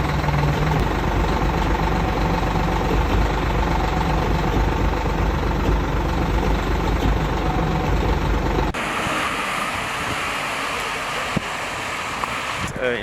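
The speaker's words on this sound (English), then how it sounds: "Hearing that diesel engine struggle then roar to life is like music." A Caterpillar 3406E diesel truck engine runs with a steady, dense, close rumble for several seconds, then carries on at a lower, rougher level.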